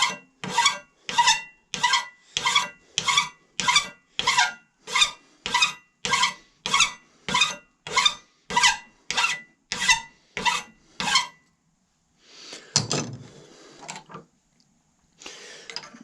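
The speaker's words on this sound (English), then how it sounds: "So first thing I want to do is square off the end with a file." A hand file squares the end of a steel screwdriver blank, a close, rhythmic rasping of about eighteen even strokes, then a pause and a few scraping, handling sounds.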